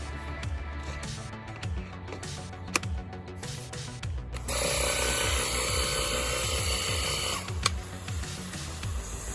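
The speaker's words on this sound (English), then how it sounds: "you'll quickly hear the difference when the compressor kicks on and the power washer starts working" Worx Hydroshot cordless power washer with its compressor switching on, a mechanical whirring and clicking that gives way to a louder, steady hissing spray lasting several seconds before dropping back.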